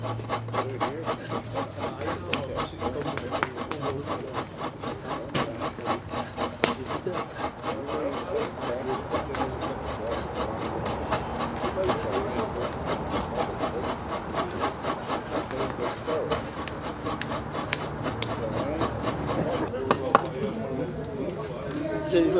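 Hand scraping at a Samoan cultural learning day, a steady rough rasping that repeats continuously, fairly close, with people talking over it throughout.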